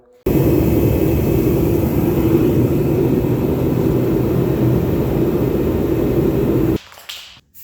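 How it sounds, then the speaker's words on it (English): A turbo heater blows steadily to warm the body of a 1978 AMC Gremlin drag car in a shop, a loud, constant roaring rush of air that holds for several seconds and then cuts off abruptly. "I'm gonna turn on the turbo heater, throw a little bit of heat on this thing, get it nice and warm"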